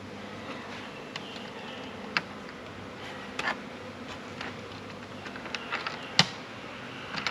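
Honeybees buzzing around a hive as a package is installed, a steady close hum with scattered clicks and knocks of equipment, no talk.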